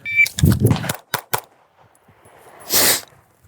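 Pistol shots in a concealed-carry self-defense demonstration: a quick cluster of sharp cracks, two more separate reports, then a louder, longer blast near the end, with quiet gaps between.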